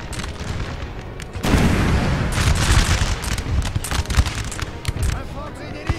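Gunfire in a Napoleonic-era strategy game battle set in 1815, a sudden loud burst of massed musket volleys and booming shots that erupts after a quieter opening and keeps crackling in irregular bursts, with a voice talking over it.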